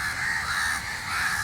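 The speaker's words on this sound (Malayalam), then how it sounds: "കാക്കയുടെ സംസ്ഥാന സമ്മേളനം നടത്തുന്നുണ്ട്" A flock of crows caws continuously and loudly nearby, many overlapping calls forming a steady chorus while fish is being cut outdoors, with no talking.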